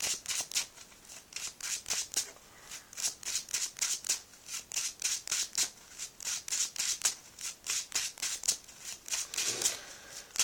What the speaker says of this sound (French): On va mélanger un petit peu le deck.